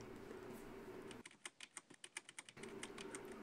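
Rapid clicking keystrokes on a small computer keyboard, a quick burst of about a dozen taps lasting just over a second, heard alone between stretches of steady background noise.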